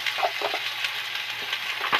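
Chopped cabbage sizzles and crackles steadily in a hot pan, with occasional scraping stirs of a spatula, no voices.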